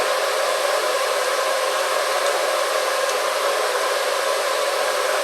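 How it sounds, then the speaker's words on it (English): Steady, loud hiss of compressed air escaping from an AEA Challenger .457 air rifle, a continuous broadband rush that holds even for the whole stretch with no breaks. "while that air is releasing"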